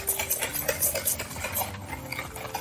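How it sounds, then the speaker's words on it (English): An egg being beaten into brownie batter in a bowl, with quick rhythmic clinks and scrapes of a utensil against the dish, close and busy throughout. "now we're gonna mix our final egg"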